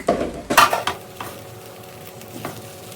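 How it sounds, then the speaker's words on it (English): Egg stirred into shrimp fried rice in a hot pan, with a few loud scraping stirs at first, then a steady sizzle with light clinks. "we're going to add the egg now"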